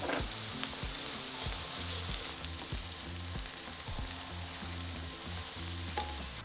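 Red chilli and minced garlic fry in a pan for saag aloo, a soft continuous sizzle with repeated rhythmic scraping and stirring taps, close but fairly quiet.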